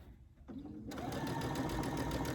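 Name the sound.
Brother Essence VM5200 sewing machine stitching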